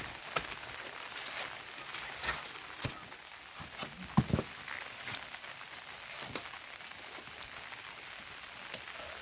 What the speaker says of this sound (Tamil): மழை வேறு பெஞ்சிட்டு இருக்கு